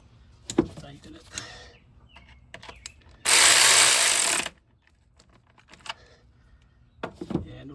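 A ratchet tightens a bracket back onto the engine of a GMC Yukon, Suburban or Escalade during a valve cover gasket job, a loud burst of rapid clicking lasting about a second amid quieter handling noises and brief speech.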